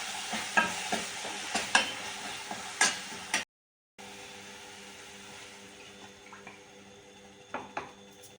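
Masala hits hot oil for mas vadi, giving a faint frying sizzle punctuated by stirring clinks and scrapes, with a brief gap of silence partway through before the soft sizzle resumes.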